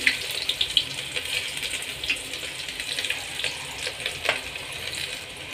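Finely chopped onion goes into a hot pan of oil with cumin and garlic for khichdi, giving a continuous hissing sizzle that carries small crackles and pops, close and moderately loud, with no talking.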